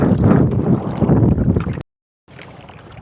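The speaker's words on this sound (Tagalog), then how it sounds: "sobrang lakas ng hangin at ang alon, mga idol, ay malalaki" Strong wind buffets the microphone while waves churn on the open sea off the Philippines, roaring loud and steady, then cutting out briefly before returning fainter.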